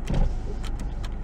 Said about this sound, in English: Let me turn my car off and crack my windows for this